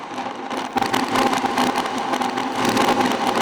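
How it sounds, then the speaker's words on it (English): Synthux Spotykach granular synthesizer played in reverse with grit and delay engaged, a thick, crackling, whirring drone that swells and shifts in loudness over a few seconds, with no voice over it. "Play it in reverse"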